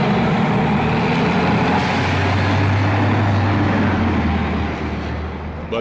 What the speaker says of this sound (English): After it's loaded, the truck leaves.